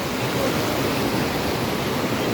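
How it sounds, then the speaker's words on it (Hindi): Fast water pours down a waterfall at Bheda Peer Sahab near Kanera, Rajasthan, a loud, constant, dense roar heard close up with no voices over it. "देखो बहुत तेज़ पानी है यहाँ पे"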